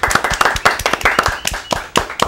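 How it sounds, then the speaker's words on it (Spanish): A studio audience on a Sunday sports show claps to welcome a former major-league baseball guest, brisk close claps in a quick uneven patter, loud and distinct with no talk over them. "Un aplauso."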